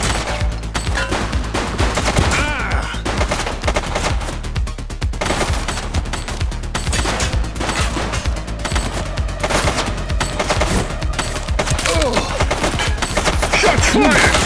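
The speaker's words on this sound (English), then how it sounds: "Shots fired!" Sustained automatic gunfire in the video game Averno True Crime, loud dense bursts of rapid shots rattling continuously from start to finish with no pauses.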